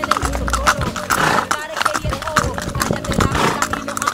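Horse hooves clip-clop steadily during a ride near a stable, close and fairly loud, while people, including a child, talk over them in Spanish and English.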